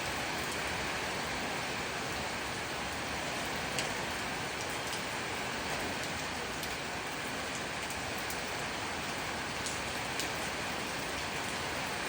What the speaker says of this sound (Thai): สายฝนก็ยัง หล่นมาเรื่อยๆ เออโปรยปลายลงมาเรื่อยๆ นะคะ